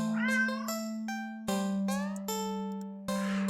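A cat meows repeatedly in the indie horror game Do Not Take This Cat Home, about four separate clear, close meows over a steady electronic hum.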